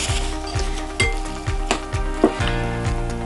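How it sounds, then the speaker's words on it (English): A steady crackling sizzle of pakora-style gram flour fritters shallow frying in a pan, with occasional clinks of a utensil against the pan, close and fairly loud. "we're not deep frying, just shallow frying"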